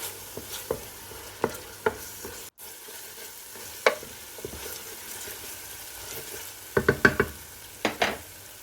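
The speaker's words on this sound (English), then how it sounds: "Mix the garlic in the onion spice mix." Garlic and ginger paste being stirred into a frying onion and spice mix for kofta biryani, a low sizzle broken by repeated sharp scraping and clacking strokes of a spoon against the pan, close up.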